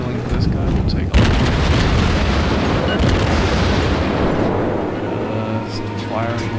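Cruiser guns in World of Warships, a Tier IV American cruiser, the Phoenix, fire in loud booming blasts over rumbling battle noise, with one sharp heavy shot standing out and the roar continuing throughout.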